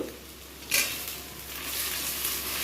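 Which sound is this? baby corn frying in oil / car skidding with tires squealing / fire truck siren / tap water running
baby corn frying in oil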